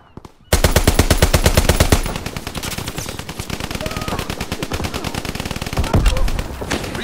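Strafing run gunfire in the Call of Duty: WWII video game, rapid sustained bursts of loud machine-gun fire that open abruptly and rattle on continuously with slightly uneven intensity.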